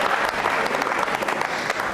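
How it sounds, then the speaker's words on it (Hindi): Dense audience applause from a studio gathering, continuous and full throughout, many hands clapping together at close range with no gaps. "हर्ष तांबे के लिए तालियां जोरों से बजाइए।"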